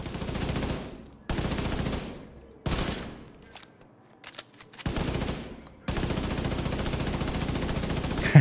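Automatic video game weapon fire in long sustained bursts, loud and rapid, broken by short silent gaps with a few scattered single shots between them.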